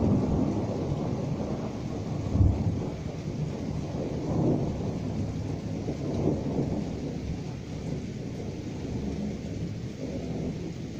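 Thunder rumbles through a night thunderstorm near Berlin, a steady low roar with rain hiss and a brief stronger crack early on, all fairly close and continuous, with no voices.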